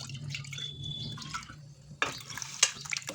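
Water splashes and runs as a pressure cooker is rinsed out in a home kitchen and the water is poured into lentils, with close, trickling sounds and a sharper splash near the end.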